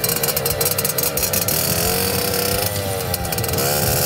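A scrap moped's small engine runs steadily and close, holding a buzzing drone with slight shifts in pitch, on a trip toward Saint-Tropez near Nice.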